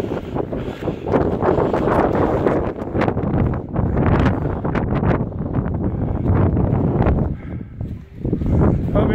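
Strong, gusty wind buffets the microphone on the summit of Crookrise Crag, a roaring, continuous rush with surging blasts throughout and only a brief lull near the end.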